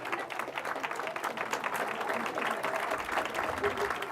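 Audience applause at the Francis Center dedication ceremony at Elon University: a dense, steady clatter of many hands clapping throughout, with voices audible underneath.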